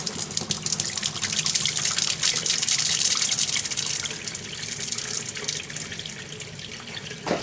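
Water from the line of a 1981 Whirlpool washer rushes and sputters with air still in it, a continuous splashing flow with uneven bursts, fairly close and without speech.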